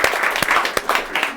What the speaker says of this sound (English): So if we could give them a quick round of applause.